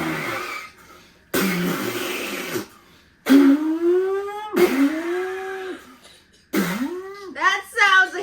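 A person imitates car engine sounds with the mouth: several separate bursts of buzzy, revving vocal tones with rising and falling pitch, loud and close, separated by short silences.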